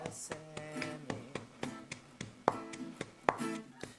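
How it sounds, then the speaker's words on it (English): Galangal and lemongrass are pounded together for Thai chicken satay, a series of sharp, regular thuds about every half second at close range, with faint talk underneath. "Try to smash together until this mix well."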